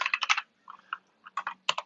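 Code being typed on a computer keyboard, close and crisp: a quick burst of keystrokes, a pause, scattered single taps, then another rapid run of clicks.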